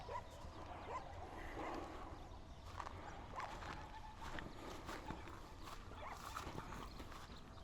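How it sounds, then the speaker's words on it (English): Dogs barking in the distance around Roman ruins in Tunisia, faint scattered barks and yips over a steady outdoor background wash, with no voices nearby. "Maybe the dogs are just going to the call of prayer"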